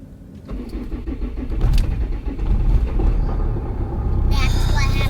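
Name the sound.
car engine failing to start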